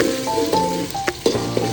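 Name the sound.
onions, spices and tomatoes frying and being stirred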